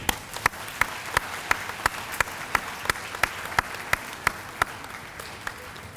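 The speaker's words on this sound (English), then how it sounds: "So first, I'd like to have a round of applause just for them." Audience applause for an elementary school's graduating D.A.R.E. class, a soft wash of clapping topped by a steady rhythm of louder synchronized claps.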